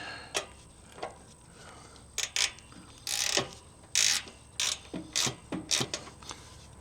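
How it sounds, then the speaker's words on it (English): Ratchet wrench turning during an oil change, a series of short sharp clicking bursts at an irregular pace, close and fairly quiet, with short pauses between swings. "Reverse the ratchet. Get this started."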